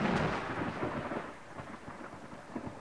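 A thunderstorm sound effect on a vintage comedy recording: a heavy rumble of thunder rolls and fades over a steady hiss of rain, loud and close, with no voices.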